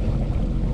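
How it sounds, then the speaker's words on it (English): Sea-Doo Switch Sport watercraft engine running at full speed during break-in, a steady loud low roar with constant wind rush and water noise close to the microphone. "gotta brake in the engine a little bit here, so we're gonna go full speed for a little bit"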